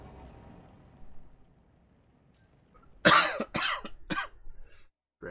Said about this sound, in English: Grab me some water and something for this cough